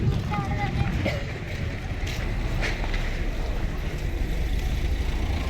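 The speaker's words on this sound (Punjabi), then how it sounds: "ਠੰਡੀ ਹਵਾ ਚੱਲ ਪਈ" Steady broadband cold wind rushing and buffeting the microphone throughout in Nagar village near Manali, loud and continuous, with faint speech-like sounds in the background.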